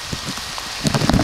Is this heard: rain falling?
yes